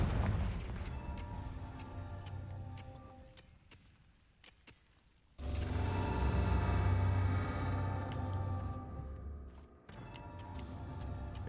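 Confringo spell explosion in the Hogwarts Legacy video game: a sudden heavy boom bursts out over quiet game music and then sustains as a dense, loud rumble for several seconds.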